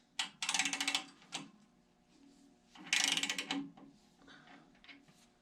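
A wrench loosens one side of a main bearing cap on a pre-war Rolls-Royce or Bentley engine: two close bursts of quick ratcheting clicks, each followed by a single sharp click, heard near and alone in a quiet room.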